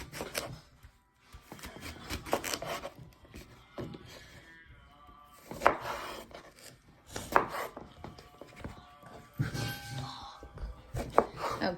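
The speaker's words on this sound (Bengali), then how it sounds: "এখন আমি বেগুনটাকে এভাবে স্লাইস করে চিকন চিকন করে কেটে নিব" A knife slices a garden eggplant into thin pieces on a board, giving a run of crisp, close cuts in irregular bursts, with short pauses between strokes.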